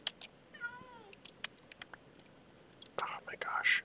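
A single cat gives a short, falling meow close by, surrounded by faint clicks and soft whispered sounds in a quiet room.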